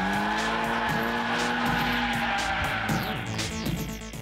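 Four-wheel drive Mitsubishi Evo race cars on a mountain pass, engines revving loud and close with rising and falling pitch, accompanied by tire squeal as they power through the bends.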